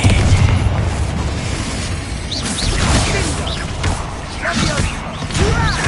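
Confringo blasting spells firing in Hogwarts Legacy combat, a dense run of booming bursts and whooshes layered under shouted game dialogue and battle noise.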